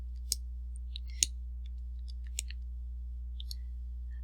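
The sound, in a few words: calculator buttons being pressed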